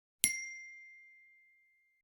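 A summit bell struck once in foggy mountain air: a single bright metallic ding with a clear, lingering ring that fades slowly into silence, faint and alone.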